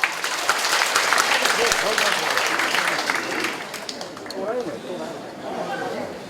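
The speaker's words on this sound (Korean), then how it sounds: "박수 한번 치겠습니다." A crowd at a redevelopment association briefing claps loudly and steadily, the applause thinning toward the end while people murmur underneath.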